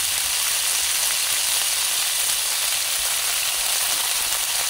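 Pako fern vegetables sizzling in a pan for adobong gulay, a steady, dense frying hiss that holds evenly throughout with no talk over it.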